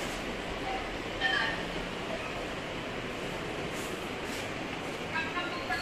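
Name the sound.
metro train passing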